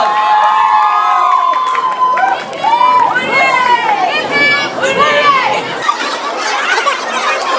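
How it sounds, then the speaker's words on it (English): A crowd of schoolchildren cheers and shouts at a Christmas carol competition prize announcement, high excited voices overlapping in a loud, continuous wave with some clapping mixed in. "Give them a huge round of applause."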